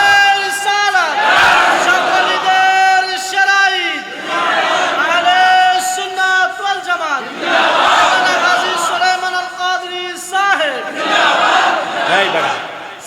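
A large crowd at an Eid-e-Milad-un-Nabi religious gathering chants Allahu Akbar in response to the call of Nara-e-Takbir, loud, repeated rhythmic voiced shouts in several waves with short pauses between them, amplified and echoing.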